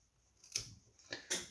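Two sharp snips as scissors cut through the vinyl jacket of a power cable for a high-power amplifier extension cord with an IEC connector, close and crisp with quiet pauses between cuts.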